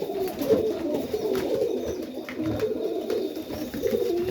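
Pigeons coo in a loft in a late-day setting, their low, steady murmuring calls overlapping continuously at close range with faint background noise.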